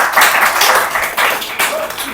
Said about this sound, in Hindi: भाई ताली बजाओ यार इसकी।